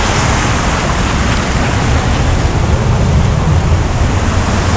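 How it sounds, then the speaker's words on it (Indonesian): Rising ocean surf at Karang Hawu beach, a loud, continuous roar of breaking waves with heavy wind rumble on the microphone, close and unbroken. "Sepertinya ombaknya semakin lama semakin tinggi pemirsa."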